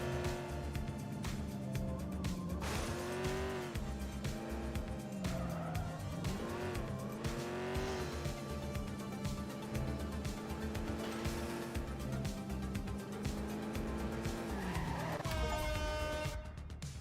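In The Precinct, a high-horsepower rear-drive car skids with repeated tire squeals and revving engine tones rising and falling, loud and close, with no talk.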